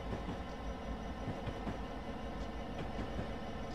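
BNSF locomotives hauling a grain train in Train Simulator 2015 rumble along the rails, a steady low engine drone with faint clicking wheel noise throughout, no voices.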